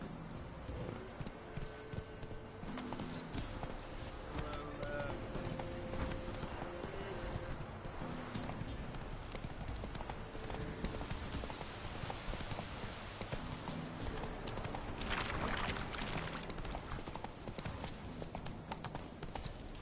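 Roach, a horse in The Witcher 3 video game, gallops in a steady rapid clip-clop of hooves that carries on throughout, layered over a rain-like wash with a faint whinny.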